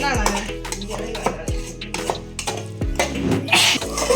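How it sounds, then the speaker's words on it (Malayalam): Spoon stirring food in a metal pot on a stove: repeated scraping and clanking strokes, fairly close and moderately loud, with a soft voice underneath. "നല്ല സൂപ്പറായിട്ട് ഇളക്കിക്കൊണ്ടിരിക്കുകയാണ്"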